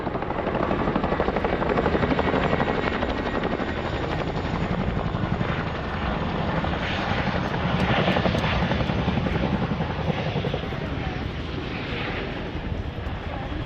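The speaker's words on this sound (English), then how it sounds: "The aircraft is now going to position expeditiously forward and down to recover the troops." Military helicopter at the Cosford Air Show flying display, a loud continuous rotor and engine roar with steady chopping pulses, close by and sustained throughout.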